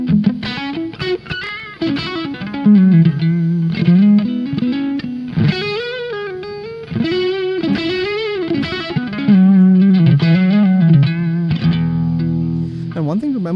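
Distorted electric guitar through a tube amp, played in melodic phrases with a short slapback reverb echo trailing each note.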